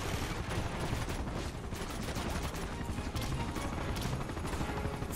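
Dense, continuous gunfire from the video game Uncharted 2 roars loud and unbroken, rapid shots blurring into a sustained barrage.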